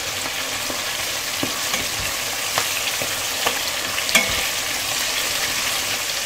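Chicken pieces (breast, thigh and drumstick) fry in hot oil for Popeyes-style fried chicken, giving a dense, continuous sizzle with scattered sharp pops and crackles and no voices.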